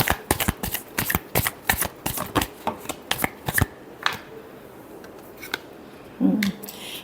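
Tarot cards being shuffled by hand, a quick run of crisp riffling slaps in a steady rhythm that slows into a few sparser flicks, close and clear with no talking.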